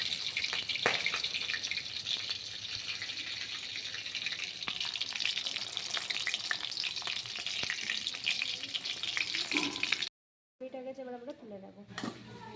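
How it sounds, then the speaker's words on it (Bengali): Steady hissing sizzle of fish frying in hot oil with occasional pops, continuous and close, cutting out briefly near the end before a softer stretch. "মাছটাকে ভালো করে ভেজে নেব"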